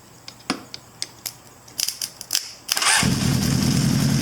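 A 1983 Honda CB1000 C Custom motorcycle that won't start, jumped at the starter, gives a few sharp clicks and sparks before the engine catches and settles into a steady, loud running rumble.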